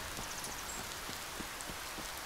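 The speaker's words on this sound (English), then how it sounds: "Get out of the rain." Rain falling in the video game Spirittea, a steady soft hiss with scattered faint drop patters, quiet and continuous with no voices.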